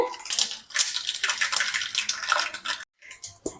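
Mustard seeds hit hot sesame oil in a pan for a village mango pickle, raising a loud crackling sizzle with bursts of spitting and popping, a brief pause, then more spatter.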